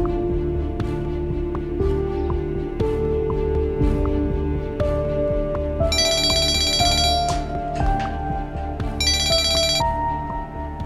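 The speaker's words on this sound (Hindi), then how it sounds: "मैं ज़ैनब साहिबा को फोन करूँ।" An electronic phone ringtone plays a tinkling melodic pattern in two bright bursts over a steady background hum.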